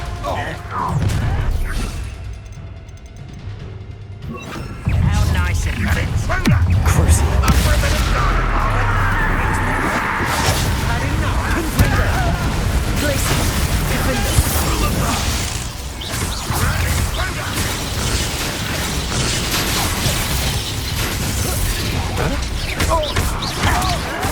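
Glacius and Confringo combat spells in the Hogwarts Legacy video game: bursts of crashing, blasting spell impacts over a dense rumbling battle bed, loud throughout, with spoken incantations and voices mixed in.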